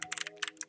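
A brief burst of quick keyboard clicks comes from someone typing code on a computer keyboard. A faint tonal hum sits underneath.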